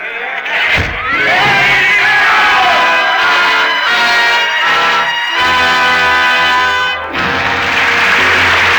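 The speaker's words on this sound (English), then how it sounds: "the roar of the crowd fades into the silence of 150 years ago" A large crowd roars and clamors in a dense, sustained swell that briefly dips near the start and again toward the end, loud and continuous throughout a dramatic radio scene of the French Revolution.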